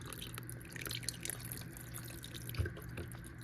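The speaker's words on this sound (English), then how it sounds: "And I'm gonna add in some beef broth." Beef broth is poured into a pot of chili mac with tomato sauce, giving faint, close liquid trickles and drips over a low background hum. No one talks.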